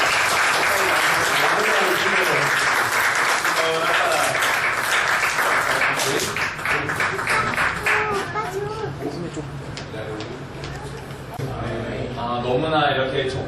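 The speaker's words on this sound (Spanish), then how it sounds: "darle una aplauso de gloria a Dios" Church congregation applauding to give glory to God, a sustained burst of dense clapping with voices and chatter rising over it as it winds down.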